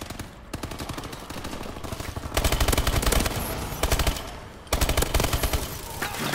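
ASM1 submachine gun in the video game Call of Duty Advanced Warfare, firing loud, close, rapid automatic bursts with short pauses, the longest sustained strings coming in the back half.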